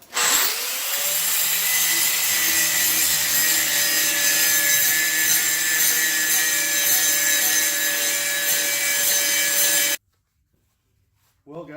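Power tool scrubbing paint off a cut piece of 5160 leaf spring steel clamped in a vise, a loud, steady grinding whine that spins up and holds for about ten seconds, then stops abruptly.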